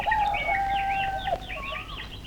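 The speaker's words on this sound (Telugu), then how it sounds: "కోడి కోత వేసేసింది" A rooster crows in a long, loud call near the listener, with a few other birds chirping faintly in the background; no one speaks.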